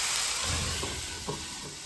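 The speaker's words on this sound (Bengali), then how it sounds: "এইভাবে আরও বেশ কিছুক্ষণ নেড়েচেড়ে গোশগুলো ভালোভাবে কষিয়ে নেব।" Chicken pieces stir-frying with soy sauce in a pan for Bengali chicken balls, a continuous close sizzle with soft scraping and stirring bumps throughout, no voices.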